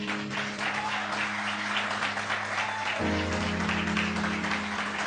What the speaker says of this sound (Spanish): Yo creo que ese aplauso para el Espíritu Santo fue pequeño.